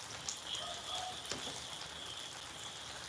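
Light rain falls as an even, quiet hiss throughout, with a few faint tonal chirps and a brief tick rising from the steady wash.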